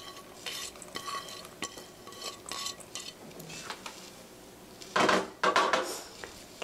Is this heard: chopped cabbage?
yes